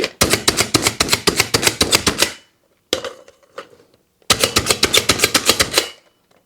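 A manual food chopper cutting grapes with rapid, loud whacks in two quick bursts of about a dozen strikes each, separated by a short pause with a few faint clicks.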